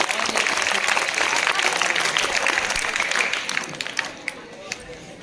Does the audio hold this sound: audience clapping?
yes